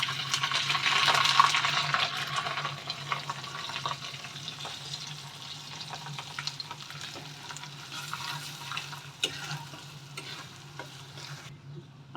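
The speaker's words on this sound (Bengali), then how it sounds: "সেই নারকেলটাও আমি এই তেলের মধ্যেই দিয়ে একটু হালকা ফ্রাই করে নেব।" Grated coconut frying gently in hot oil with tempering spices for a vegetable khichdi, a steady close sizzle strongest at the start, then easing, with occasional utensil scrapes and clicks, and no voices.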